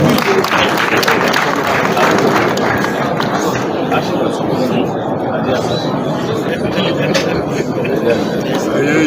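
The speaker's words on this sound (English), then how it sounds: "Please, a big round of applause for him as he comes forward." Conference audience in a hall gives a big round of applause as a guest comes forward, loud, dense clapping mixed with crowd murmur and voices that thins a little midway.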